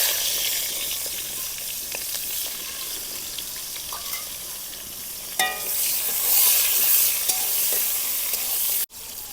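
Chopped tomatoes fry in oil spiced with cloves, cinnamon and panch phoron for masala paneer, a steady close sizzle with stirring scrapes and a brief clatter midway.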